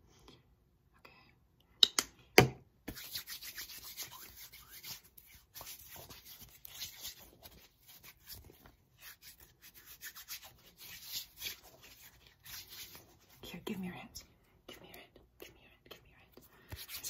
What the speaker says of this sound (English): that was not enough hand sanitizer sound